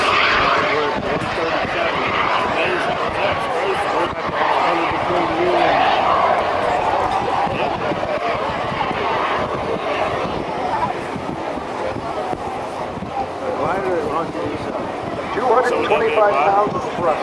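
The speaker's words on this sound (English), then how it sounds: "the Czech Republic built the engine, originally designed for a fighter jet APU" A small jet engine on a glider, Czech-built and derived from a fighter jet APU, whines steadily at an airshow, heard under continuous announcer talk and open-air crowd ambience.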